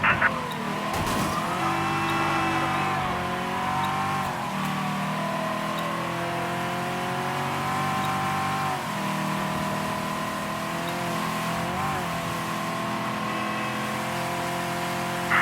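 Car driving erratically in the video game Mafia III, with a steady, loud engine drone, shifting revs and tire squeals running continuously near and close throughout.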